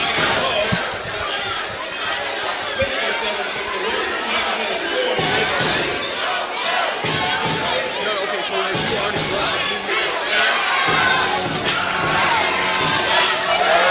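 A crowd at a Stillman College versus Talladega College homecoming game roars and cheers, with loud surges, shouts and bangs over a constant din of chatter.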